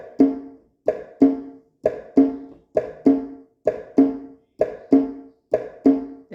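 Keyboard tones imitating S1 and S2 heart sounds: paired lub-dub notes repeating steadily about eight times, close and clear with no talking.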